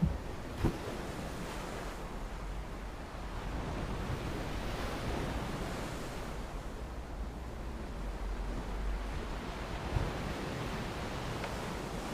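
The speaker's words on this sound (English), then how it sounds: "listen to the sound of the ocean" Ocean surf washes in a continuous broad rush, with waves rolling and breaking steadily at moderate volume and some wind buffeting the microphone, with no voices.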